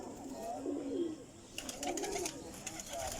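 Flying pigeons coo in low, throaty rolling calls, several overlapping at close range amid some fluttering and clicking in the second half.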